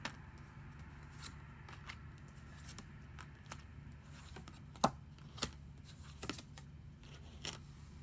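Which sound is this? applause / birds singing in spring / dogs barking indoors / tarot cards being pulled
tarot cards being pulled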